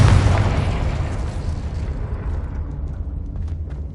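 An explosive fire spell detonates in Hogwarts Legacy, a single loud boom with a heavy low rumble that fades away over a few seconds.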